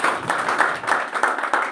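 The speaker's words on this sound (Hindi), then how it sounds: "एक बार सर के लिए जोरदार ताली बजाइए" An audience gives a speaker a short burst of applause, dense clapping with a quick rhythmic pulse, close and fairly loud, no talking over it.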